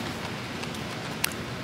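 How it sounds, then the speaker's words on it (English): Steady, soft hiss of rain falling outside, continuous and fairly even, with a brief sharp tap near the end. "it's raining outside"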